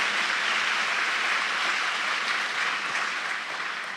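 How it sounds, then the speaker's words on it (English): A large audience applauds during the Orlando mayor's State of the City address, a dense, even roar of clapping that holds steady for several seconds and tapers slightly at the end. "I'm going to give that some applause myself."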